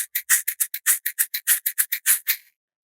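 A homemade shaker built from bottle caps and filled with shiny beads rattles close up in a quick, steady rhythm of about fifteen crisp shakes, then stops, with no voices.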